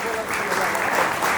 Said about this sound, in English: Ladies and gentlemen, please give them a huge round of applause.